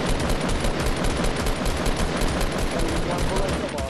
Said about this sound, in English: let's shoot them cunts down there